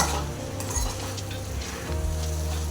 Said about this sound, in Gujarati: જો આપણે હવે તેલમાં ભીંડો આપણે એડ કરી દીધો છે અને વ્યવસ્થિત મિક્સ કરી લેવાનો